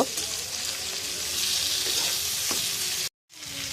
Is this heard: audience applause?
no